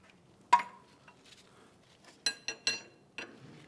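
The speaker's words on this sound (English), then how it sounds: "a 24mm wrench on the lock nut, we're going to take off our outer tie rod end" A 24mm wrench works on the lock nut of the outer tie rod end on a 2011-2016 Hyundai Elantra, giving a few sharp metallic clinks and taps spaced out over a quiet background, close and fairly loud.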